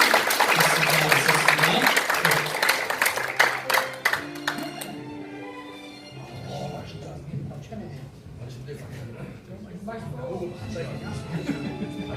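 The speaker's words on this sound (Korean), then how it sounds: "열심히 하신 분들에게 박수 보내주시기 바랍니다" Members at a regular club meeting clap for hardworking staff; a burst of applause for a few seconds fades out, then people talk with scattered sounds in the room.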